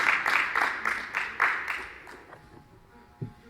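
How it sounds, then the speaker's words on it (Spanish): A congregation at a Spanish-language church sermon gives a short burst of clapping, a few loud rhythmic claps that thin out and fade, ending with a lone knock. "Denle un aplauso al Señor"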